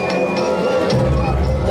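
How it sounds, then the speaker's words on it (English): Crowd noise at a Royal Crown Wrestling event as a masked wrestler makes his entrance through fog, a steady dense hubbub of shouting and cheering voices filling the hall throughout. "as you can hear by the emphatic shouts from the crowd"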